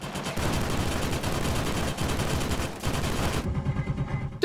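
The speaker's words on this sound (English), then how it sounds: "Go screw you and your light machine gun." Sustained light machine gun fire in the video game Killzone Shadow Fall, a dense, loud burst of rapid shots lasting several seconds before cutting off abruptly.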